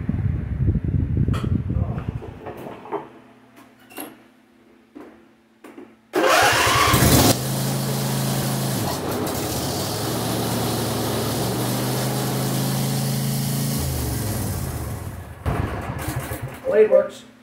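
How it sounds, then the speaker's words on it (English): A John Deere D170 lawn tractor engine starts after some handling noise and runs loud and steady at close range for about nine seconds with a droning hum, then drops off near the end. "Blade works, motor works, throttle works."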